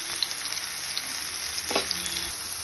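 Steady sizzling of ridge gourd frying in a hot pan over a high gas flame, a continuous crackling hiss with occasional louder pops, close and moderately loud.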